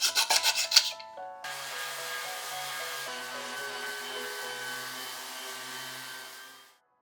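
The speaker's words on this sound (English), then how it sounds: "I've got a little bit of sanding work that I'm going to have to do to get rid of the excess glue" Steady rasping hiss of sandpaper working over a scrap-wood lamp body to remove excess glue, preceded by a few quick rubbing strokes, then one continuous even sanding pass that tapers off at the end.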